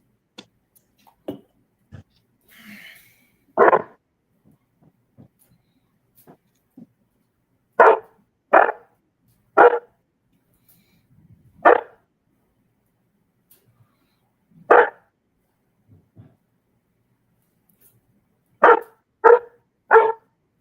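A dog barks repeatedly indoors, loud sharp barks in short bursts and doubled or tripled clusters, separated by gaps with faint whimpers and small noises.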